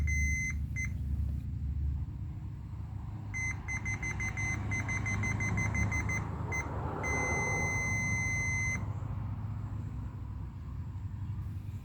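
A continuity tester beeps in bursts on a plug's neutral wire, some short and choppy, others held for a second or two, over a steady low background hum.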